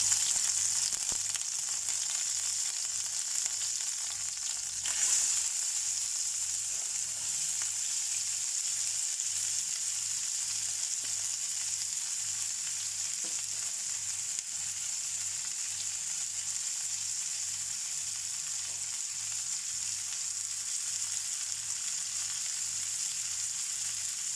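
Green chilies fry in a pan of oil with cumin, giving a steady, even sizzle that holds constant for about twenty seconds with no one speaking.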